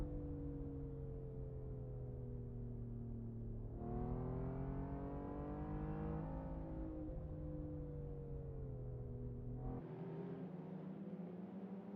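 Race cars start a race at Kyalami in a sim racing game, a pack of engines droning and whining together, revving up through the gears with rising and falling pitch, steady and loud throughout.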